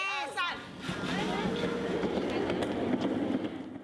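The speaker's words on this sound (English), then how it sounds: "The train is taking children from Kedah Tzu Chi Kindergarten to the destination" A children's train ride carrying kindergarten pupils rumbles steadily along with a continuous rolling clatter, while high voices and chatter rise over it near the start.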